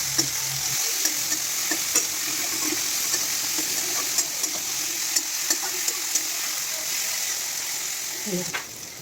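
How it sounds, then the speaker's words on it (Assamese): Fried potatoes stirred into a simmering soybean and egg curry: a steady close sizzle with scraping spoon strokes and scattered light clicks throughout, no voices. "আৰু এতিয়া মই ইয়াতে ফ্ৰাই কৰি থোৱা আলুখিনি ইয়াৰ লগত মিক্স কৰি লৈছোঁ।"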